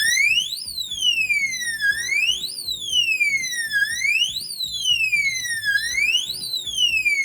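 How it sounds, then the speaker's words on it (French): A Quaestor electronic safe's alarm, triggered after three wrong code entries, wails continuously, its pitch sweeping up and down in a repeating siren cycle about every two seconds, loud and steady throughout. "Après 3 erreurs, l'alarme sonne."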